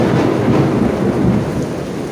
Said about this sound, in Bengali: অনেক জোরে ঝড় বন্যা শুরু হয়ে গেছে।